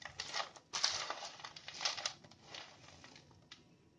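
Faint crisp crackles and crunches come in short bursts as crunchy homemade muesli is broken apart by hand, close up and quiet.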